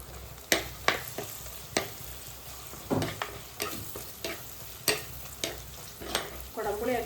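Tomato fries in oil with chili powder and spices for a fish dish, giving a steady close sizzle broken by sharp clicks and scrapes of stirring, with no voices.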